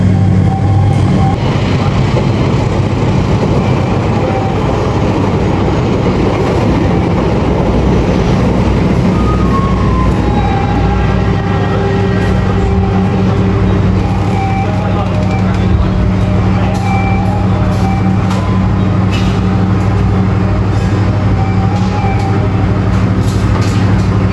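Inside a moving KA Serayu passenger train, a loud, constant rumble of wheels and carriage noise runs throughout, with a steady low drone and some faint higher tones over it.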